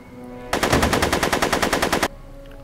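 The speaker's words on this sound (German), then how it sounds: "Leider kann ich mich schlecht konzentrieren, wenn mir dauernd Kugeln um die Ohren fliegen, Mr. Callahan." Machine-gun fire in a Back to the Future video game: one loud, close burst of rapid, evenly spaced shots lasting about a second and a half over quiet background music, with no talk.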